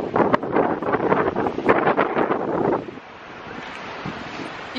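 Strong wind buffets the microphone with loud rushing gusts, and heavy surf roars and crashes nearby before the wind eases slightly.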